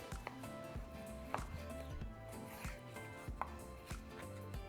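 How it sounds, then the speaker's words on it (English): Knife slicing flank steak against the grain on a cutting board, a series of soft knocks at an irregular pace under background music, fairly quiet. "Now we're just going to cut it against the grain."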